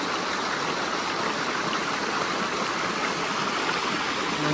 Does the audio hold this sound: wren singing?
no